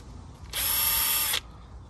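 A Milwaukee M12 cordless drill set to drill mode whirs up sharply, runs at a steady high whine for just under a second, then cuts off abruptly, close and loud.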